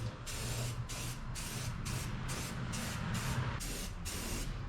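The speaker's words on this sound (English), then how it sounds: "So we'll just spray away." A steady hiss from an aerosol spray can painting parts of a 1977 Datsun 620 dash, sprayed in repeated bursts of about half a second with short gaps between, close up and fairly loud.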